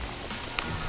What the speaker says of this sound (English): Oh, that's a lot of rain. It's getting wet.